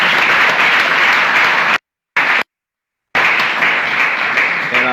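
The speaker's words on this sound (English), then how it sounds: "Let's give them a round of applause" Audience applause honoring mothers and sisters at a Mother's Day moment during a ministry address; loud, dense clapping fills the room, broken by two abrupt silent gaps before resuming.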